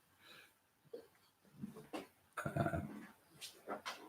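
Quiet, close snuffly breathing and soft wheezes from a dog, with a few faint whimpers and shuffling, low in level.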